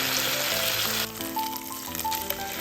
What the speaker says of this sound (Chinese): 热锅放入黄油，开中火放入吊龙肉。